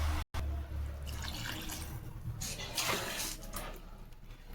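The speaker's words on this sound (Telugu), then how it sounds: "2 గ్లాసుల వాటర్ అన్నది వేసుకోవాలి." Water poured from a glass into a cooking pot while making gongura boti in a home kitchen, a steady close splashing trickle that runs for several seconds with a brief break near the start.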